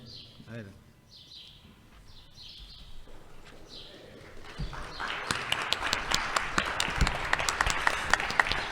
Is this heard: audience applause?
yes